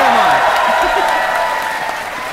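A crowd cheers and applauds during a Final Fantasy XV game scene, a loud continuous wash of clapping and voices running the whole stretch.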